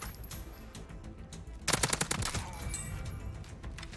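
Bison submachine gun fire in Call of Duty: Modern Warfare, a short rapid burst of closely spaced shots rising above quieter game ambience, fairly loud and near.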